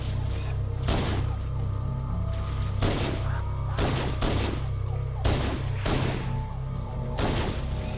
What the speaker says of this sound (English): We get some good shots in here with this pistol here.